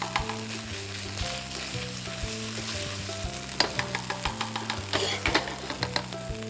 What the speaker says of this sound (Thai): ถ้าเราน้ำมันเราพอดีความร้อนเราพอดีเราจะผัดเครื่องแกงให้หอมไปเรื่อ ยๆ